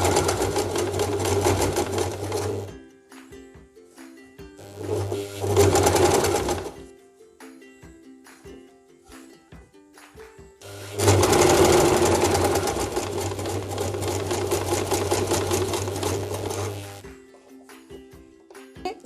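Sewing machine stitching a sleeve onto a churidar top, running in three bursts of steady, fast mechanical whirring separated by quiet pauses, close and alone with no talking.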